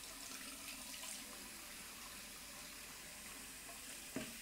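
Hot water running from a tap into a sink before a classic wet shave, a steady, soft hiss of flowing water that stays even throughout, with one brief knock near the end.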